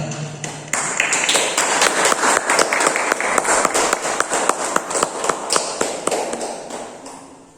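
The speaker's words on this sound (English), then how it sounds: "Give a big round of applause as our chief guest has arrived." At a school investiture ceremony, a gathered audience breaks into loud, dense applause as the chief guest arrives, swelling quickly and sustaining before tapering off toward the end.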